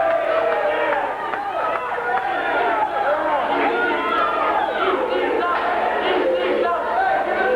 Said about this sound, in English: the crowd is loving it